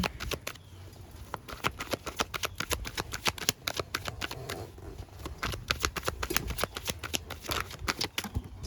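Tarot cards are shuffled by hand, producing rapid, close riffling and slapping bursts in an irregular rhythm with no talk over them.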